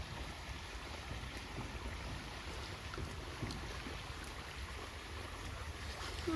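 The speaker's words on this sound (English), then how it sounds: "Oh, you can really hear the water." Fast-flowing water heard on a nature walk, a continuous, even rushing hiss that holds steady throughout, moderately distant and unbroken by talk.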